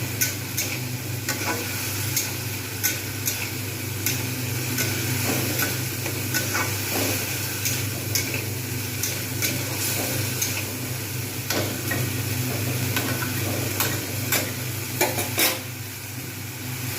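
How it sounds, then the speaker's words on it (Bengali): Masala being stirred and fried in a pan for egg tadka, with continuous close sizzling and repeated rhythmic spatula scrapes and taps against the pan throughout, no talk. "এবারে আমি এর মধ্যে দিয়ে দেবো মশলাটা যেহেতু ভালো করে কষা হয়ে গেছে"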